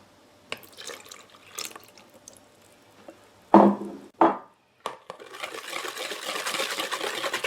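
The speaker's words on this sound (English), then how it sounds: "We're going to add our buttermilk." Buttermilk poured into red velvet cupcake batter: a few close splashes and plops first, then a steady liquid pour runs to the end with no talking.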